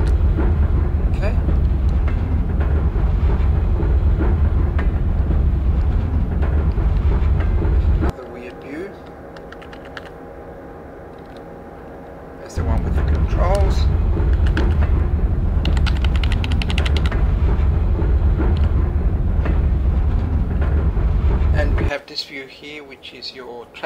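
Steady low rumble of a train running in Microsoft Train Simulator, with a brief quieter stretch of mechanical hum in the middle, then the loud rumble returns until near the end.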